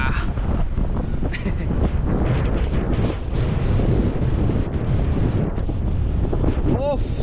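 Strong wind on a sea beach at New Digha batters the microphone in a loud, continuous roar that runs the whole time, with surf likely mixed into the rumble and a faint voice or two barely poking through.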